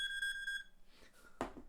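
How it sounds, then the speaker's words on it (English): A phone alarm beeps steadily in a repeating tone for about half a second and then stops, followed by faint handling noises and a sharp knock, close by and without speech. "Excuse me, it's my alarm."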